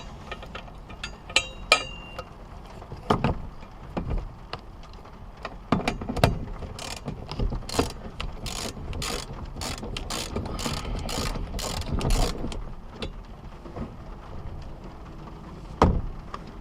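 A ratchet tightens the harness bar bolts in an EP3 Honda Civic Si, making bursts of rapid, close clicking with a few metallic clunks between them.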